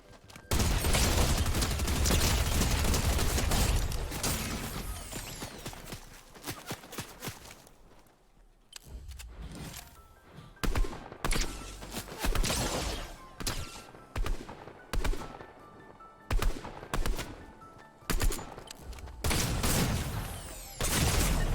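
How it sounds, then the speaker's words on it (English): Video game gunfire: sustained automatic bursts and rapid shots, with short gaps between volleys, loud and close with some footsteps mixed in. "how are they just shooting in between the leaves?"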